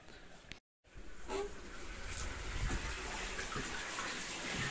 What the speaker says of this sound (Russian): Тут прям льет вода.